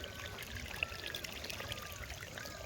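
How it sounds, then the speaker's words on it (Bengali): Water streams steadily through a farm field with a soft, continuous trickling and pouring. The flow is faint and fairly close, with no talking over it. "কিরকম জল যাচ্ছে দেখো।"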